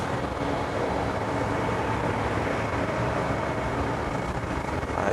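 Machinery in a ship's engine room, with the main engine and auxiliary equipment producing a loud, constant broadband roar and hum that stays level and unbroken throughout.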